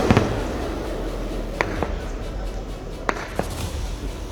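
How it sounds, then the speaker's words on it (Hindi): Heavy gunfire over Jammu during a nighttime blackout amid India–Pakistan tension, heard as scattered distant sharp cracks and pops over a constant low hiss of outdoor noise. "यहाँ पर फायरिंग की आवाज साफ तौर पर आप सुन सकते हैं।"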